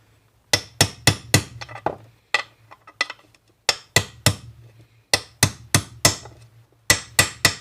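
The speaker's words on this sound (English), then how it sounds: "So let's knock it in with same thing, a socket equal size." A socket of matching outside diameter hammered against a CR125 water pump seal, driving it into a 125 shifter kart pump housing: about fifteen sharp metallic whacks in quick groups of three to four, close and loud, with no voices.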